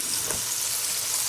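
Koftas frying in a pan make a constant close hiss and crackle, with one faint soft stir or scrape in a brief stretch free of talk.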